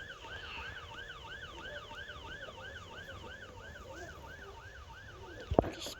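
A police car siren whoops in a fast, regular yelp cycle, distant and faint against background street noise, ending with a brief sharp knock close by.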